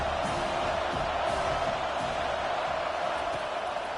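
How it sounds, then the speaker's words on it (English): Steady stadium crowd roar in the NCAA 25 college football video game before a third-and-long snap, a dense, continuous wash of fans at constant loudness. "Here comes the crowd trying to make it tough on third and long."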